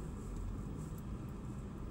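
Opel Corsa three-cylinder engine, suspected of engine damage, held at full throttle, a steady loud low rumble with no break and no voices.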